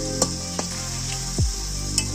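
Oil heats in a pan for a Bengali fish curry with a steady, close, hissing sizzle. A few sharp utensil clinks and one low thud are heard, with no talk.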